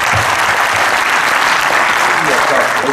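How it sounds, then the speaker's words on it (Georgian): Audience applause at a political prisoners' meeting in Zugdidi: a dense, even burst of many hands clapping fills the room, sustained loudly for a few seconds. "ვფიქრობ რომ თქვენ ნამდვილად ხართ ღირსნი რომ ტაში დაგიკრათ"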